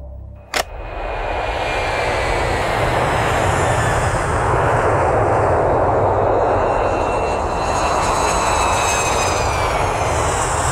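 An airplane passes as a movie sound effect: a sharp click, then a loud, sustained roaring engine drone with a whining tone that holds steady and close throughout, with no voices.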